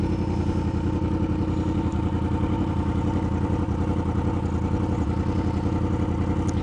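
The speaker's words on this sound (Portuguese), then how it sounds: "Nada melhor do que um rolê de moto." A motorcycle engine, a Yamaha R1 or Kawasaki Ninja 1000, drones steadily throughout, a continuous mid-pitched rumble with a rattly texture, heard close up while riding.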